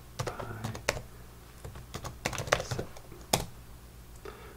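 Irregular clicking keystrokes on a computer keyboard, close and fairly quiet, coming in quick bursts with short pauses, while entering Linux commands during an Ubuntu setup.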